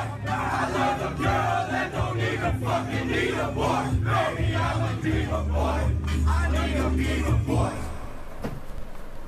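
Fans in a packed concert crowd roar and shout during a Lil Peep show, a dense wash of cheering voices over thumping low music that drops away near the end.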